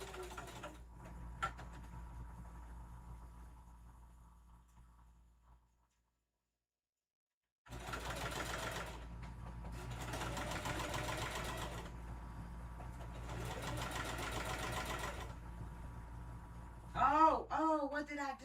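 A sewing machine runs a long stitch through fabric for a puffy Halloween tote bag. Its rapid mechanical chatter comes in several bursts after a short silence, with brief pauses between runs.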